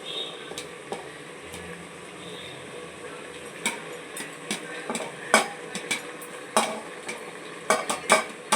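Liver curry fries in a pan as tomato goes in and is stirred, with a soft sizzle underneath and a run of sharp spoon scrapes and clinks against the pan, irregular and growing busier toward the end.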